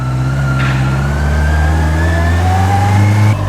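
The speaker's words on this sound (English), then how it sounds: "I can just twist the throttle and go." Honda CBR650R E-Clutch motorcycle pulling away on the throttle, a loud close engine note rising steadily in pitch as it accelerates, continuous and without talk.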